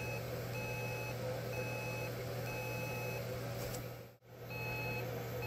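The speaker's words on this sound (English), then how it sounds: "this is currently like a demonstration alarm" An Arduino-driven demonstration alarm beeps in a steady on-off pattern, a high electronic tone repeating at an even pace over a constant low hum.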